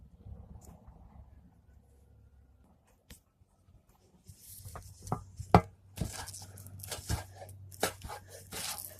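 Knife chopping green onion stalks on a board: a quiet start, then a run of uneven, loud, close cuts and thuds in the second half, with no talking.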